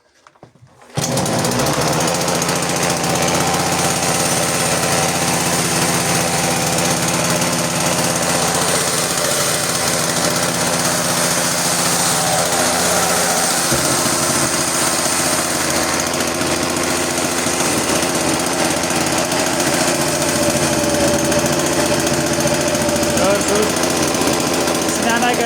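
A chainsaw engine warms up at a steady fast idle after a carburetor adjustment, a loud continuous buzzing drone that starts abruptly and runs unbroken, with the pitch dropping slightly partway through.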